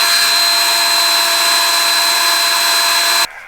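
A 9/64 drill bit bores a hole during a bump stop install on a 2016 Toyota Tacoma, giving a loud, steady high-pitched power-drill whine that runs for about three seconds and then stops abruptly.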